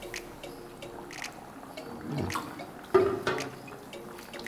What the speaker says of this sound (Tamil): அதை கொஞ்சம் தண்ணி ஊற்றிக்கோ.